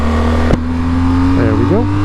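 BMW GS 1250 motorcycle overtaking a car on the road: a steady engine drone with a sharp bump, then the revs climb in a couple of quick rising sweeps as it accelerates, with wind noise throughout.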